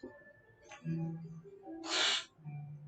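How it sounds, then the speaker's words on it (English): Pet bird giving a short, breathy hiss in a quiet indoor room, one burst near the middle, fairly close, with faint soft rustling and low background hum around it. "What are you hissing at me for?"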